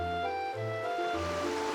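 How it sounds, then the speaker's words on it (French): Stormy ocean waves with a small boat caught in a tempest, a sustained rushing wash with steady tonal music underneath and no speech. "Le petit bateau ne résista pas aux énormes vagues qui se soulevaient et il chavira."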